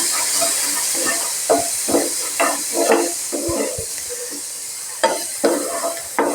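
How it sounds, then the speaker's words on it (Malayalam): Upma with a little salt sautés in a hot pan, a steady hiss and sizzle broken by repeated scraping stirs of a spoon against the pan. "അപ്പോൾ അത് നല്ലോണം ഒന്ന് വഴറ്റിയെടുക്കാം"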